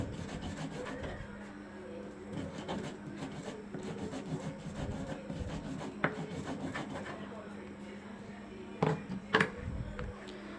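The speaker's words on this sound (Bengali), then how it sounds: "জলটা দিয়ে ভালো করে বেটে নেব।" Taro being ground with four green chillies and a little water into a fine paste for kochu bata, a steady close scraping and rubbing of stone grinding, continuous with occasional sharper knocks.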